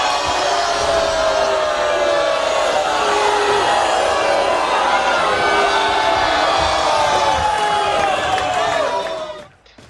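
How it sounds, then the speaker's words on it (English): Loud, dense crowd roar from a Blood Bowl video game stadium reacting to a foul, a sustained wall of jeering voices holding steady for nearly ten seconds before cutting off abruptly at the end. "the crowd is not happy about that bit of dirt"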